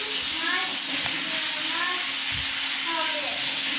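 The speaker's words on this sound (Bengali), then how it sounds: "এই যে মাছ ভাজছি এবারে।" Fish frying in a pan in a home kitchen, a continuous soft sizzle and crackle with occasional faint clinks, under a broad steady hiss, with brief voices in the background.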